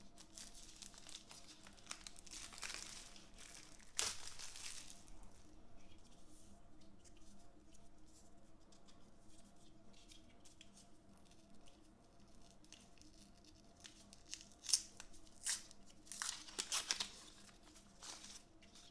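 Packaging for a 0.5 kg spool of 0.9 mm welding wire for a Parkside PIFDS 120 A1 inverter welder being handled, with soft intermittent crinkling and rustling bursts, close and fairly quiet over a low hum.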